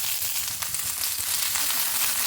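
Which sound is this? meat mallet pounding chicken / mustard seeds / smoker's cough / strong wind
mustard seeds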